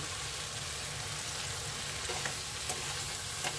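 Malabar spinach stems and chopped potato fry in mustard oil in a home kitchen pan, giving a continuous close sizzle with a few soft knocks of stirring near the end.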